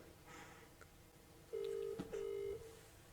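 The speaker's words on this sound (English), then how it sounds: "Okay, I'm ringing him." A phone call rings out on a quiet line, with short dialing beeps followed by two steady ringback tones in succession, faint and alone.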